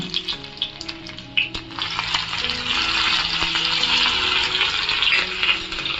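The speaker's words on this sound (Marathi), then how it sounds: "त्याच्यामध्ये मी किसून घेतलेलं आलं आणि बारीक करून लसूण घालून" Grated ginger and finely chopped garlic sizzle in hot oil in a pan, a steady close hiss and crackle with some stirring and a background melody, no voices.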